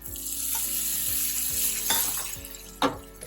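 Hot oil crackles and sizzles briefly up close as a dal tadka tempering with red chillies is made, with a few spoon scrapes and a sharp burst of frying near the end.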